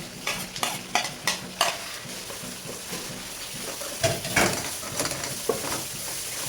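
Onion and vegetables sauté in a pot under a continuous hiss, with a run of rhythmic scraping stirs early on and more clattering stirs later, heard up close.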